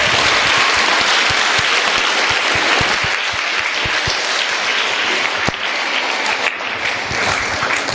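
A full, loud round of audience applause at a school science quiz, thick and continuous with occasional distinct claps standing out near the front.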